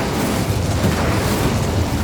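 A fiery spell cast in Hogwarts Legacy bursts out as a steady, roaring blast of flame that rumbles continuously and loudly for the full two seconds, with no voices over it.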